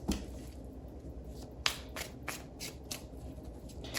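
Tarot cards are shuffled by hand, giving soft, repeated papery riffles and light snaps spread over several seconds. The sound is quiet and close, with no voice over it.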